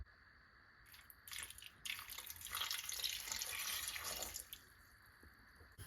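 Half a cup of water is poured into a pan of damsons for parboiling, a short, close, splashing trickle that swells and then stops against a quiet kitchen background.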